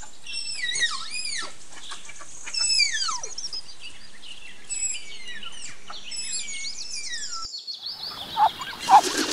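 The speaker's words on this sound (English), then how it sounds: "tapir" A tapir gives a run of shrill, sweeping whistles and squeals, repeated close and clear, before they stop and a brief burst of rustling noise follows.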